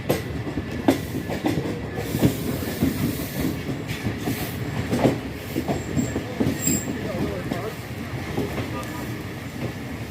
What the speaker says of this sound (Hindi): दो मिनट के स्टॉप के बाद अब जो है वो ट्रेन चकलाला रेलवे स्टेशन से रवाना हो रही है